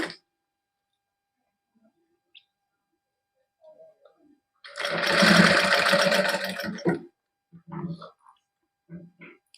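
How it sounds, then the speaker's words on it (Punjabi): A sewing machine stitches a party-wear suit in one close, loud burst of about two seconds, surrounded by quiet handling noises and brief snatches of talk. "ਇੱਥੋਂ ਆਪਾਂ ਸਲਾਈ ਲਾਉਣ ਲੱਗਾਂਗੇ"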